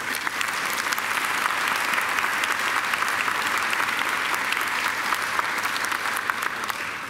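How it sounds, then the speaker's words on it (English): A large audience at a Macquarie University graduation ceremony applauds a speaker with steady, dense clapping that stays even and sustained throughout, filling a big hall. "another great round of applause"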